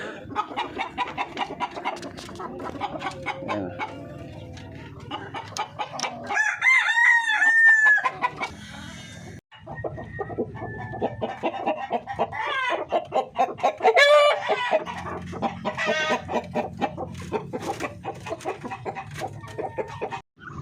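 Breeder hens cluck steadily and a rooster crows loudly twice, close by on a backyard farm, the clucking continuing throughout between the crows.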